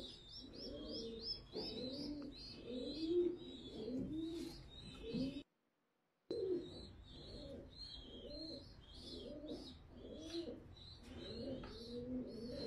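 Ornamental and homing pigeons cooing in a loft or cage set-up, with a steady chorus of overlapping low coos and higher chirping from several birds, close and continuous apart from a brief silent gap.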